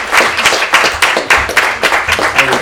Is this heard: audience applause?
yes